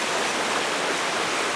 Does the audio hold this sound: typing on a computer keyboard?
no